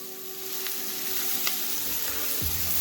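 Pumpkin fries in a pan, giving a loud, steady, close sizzle with a few faint stirring scrapes over a low hum, with no talking.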